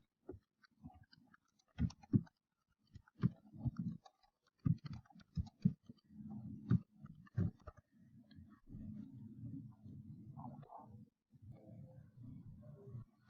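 A search query typed on a computer keyboard: irregular bursts of light, close key clicks with short pauses between words, over a low steady room hum.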